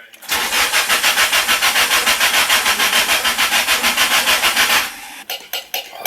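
A car engine cranks over steadily on the starter with the fuel pump fuse pulled, a fast, even churning rhythm that runs loud for several seconds, then stops and leaves a few faint clicks and knocks.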